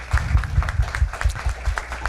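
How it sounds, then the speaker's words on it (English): Audience applause greets a student award winner at the NSCC International Learning Summit 2017. The clapping is steady and moderately loud, with heavy low thumps pulsing through it and no voices. "let's give her a round of applause."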